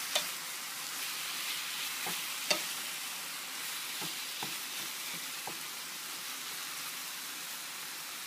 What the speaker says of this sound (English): oil to the pan and some ground turkey, and I'm going to fry it a little bit